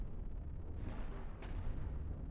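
In the Cosmoteer space game, a cannon fires at a spaceship's shields, producing muffled, low booming blasts in a quiet, continuous rumble with a couple of sharper hits.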